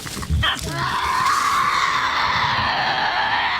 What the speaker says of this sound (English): Even the Tassie's shrieks help them feed and hunt.